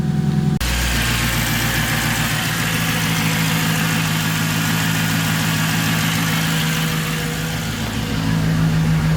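A Mercedes C55 AMG engine, fitted with new spark plugs and coil packs, idles smoothly and steadily at close range after a brief start, its low, even rumble continuing without voices.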